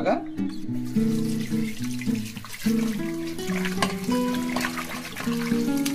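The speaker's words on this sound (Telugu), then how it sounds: "మనం లాస్ట్గా ఒకసారి వాష్ చేసుకుంటే సరిపోద్ది" Fish pieces washed under running tap water in a kitchen, with steady splashing and water flow close by while a voice talks over it.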